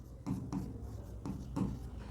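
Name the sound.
writing notes with a pen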